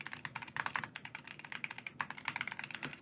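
Rapid, steady typing on an inexpensive, somewhat flexible plastic KDB keyboard, a dense run of close, crisp key clacks with no pauses and no voices.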